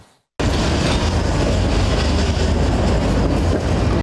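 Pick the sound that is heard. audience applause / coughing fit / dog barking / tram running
tram running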